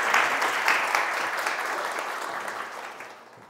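An indoor audience at a parenting talk concert claps steadily for a few seconds, then the applause slowly fades.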